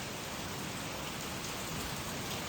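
Steady rain falling in Kerala, India, a dense and even wash of drops hitting surfaces outdoors, continuous and moderately loud with no voices.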